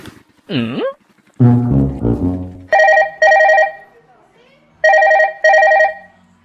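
A telephone rings during a call, with two pairs of bright electronic ring bursts sounding close and clear after a short stretch of a voice.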